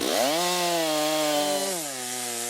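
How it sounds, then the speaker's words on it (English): A chainsaw cuts into spruce wood, its engine whining steadily close by, then the pitch drops slightly as it bites into the log and keeps running loud on its own. "Watching all the wood chips flying around and the sound of the chainsaw"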